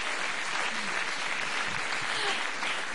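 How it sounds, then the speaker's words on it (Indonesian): Steady applause from a small audience for Pak Parto, an even, continuous wash of clapping heard at moderate distance with no break. "tepuk tangan"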